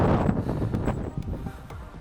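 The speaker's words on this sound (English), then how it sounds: "a huge gust of wind shoves the ball off path" A strong gust of wind roars across an open golf course green, a loud, steady rush of low buffeting noise with a few brief clicks.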